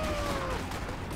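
Grenade launcher fire in the video game Max Payne 3, a dense, loud, continuous blast and rumble of gunfire filling the short burst with no pause.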